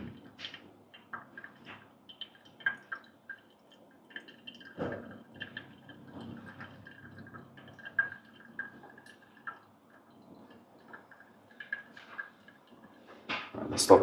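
Water dripping and trickling through a pour-over coffee bed after a measured pour, soft irregular drips and faint gurgles in a quiet room, with a louder splash near the end.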